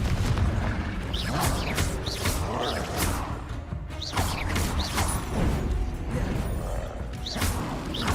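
Hogwarts Legacy spell effects: Bombarda, Expelliarmus, Incendio and Confringo. Repeated whooshing bursts, booms and crackling impacts come in quick succession over a rumbling background.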